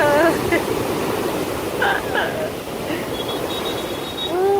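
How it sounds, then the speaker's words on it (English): Massive ocean waves off a Bali surf beach make a loud, steady rushing roar of breaking surf, while nearby voices exclaim over the top of it. "Oh, these waves are massive."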